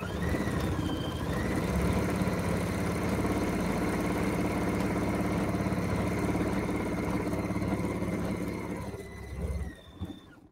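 A domestic sewing machine runs steadily, stitching a sashiko-type pattern of five or six short stitches and one long stitch through backing fabric and batting, with a continuous whirring motor hum that stops near the end.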